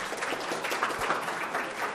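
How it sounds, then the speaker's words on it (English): Audience applause at a chamber of commerce board officers installation ceremony, a steady, dense wash of clapping that holds at an even level for the whole stretch, with no speech over it. "Let's give them another round of applause."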